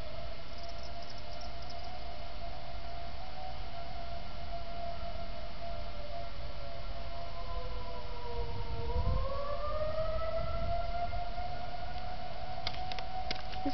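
Tornado warning sirens in Tallassee, Alabama wail in a long sustained tone heard at a distance, sliding down and then back up in pitch as they rotate, over faint low rumble.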